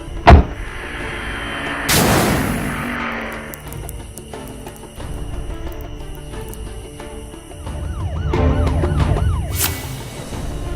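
A toy police car's siren wails in rising and falling sweeps, broken up by loud clicks and bangs near the start and again toward the end.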